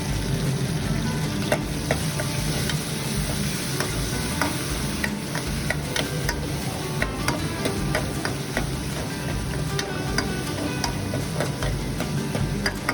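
Curry leaves frying in a hot tempering with hing for Andhra-style mango dal, a steady close sizzle and crackle with sharp pops and occasional stirring clicks, no talk.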